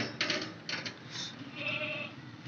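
Goats bleating on a goat farm where pregnant goats are kept, several wavering cries in quick succession at close range, with faint background noise between calls.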